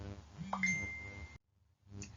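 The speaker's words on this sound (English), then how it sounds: "that's my phone binging." Phone notification ding heard once at close range as a short bright tone, over a background hum that cuts out briefly afterwards.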